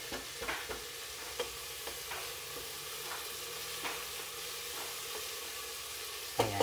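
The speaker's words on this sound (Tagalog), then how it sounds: "Habang ginigisa siya." Ingredients for shrimp sinigang sauté in a pan with a constant soft sizzle and repeated light stirring clicks, ending in a sharper clatter of the utensil near the close.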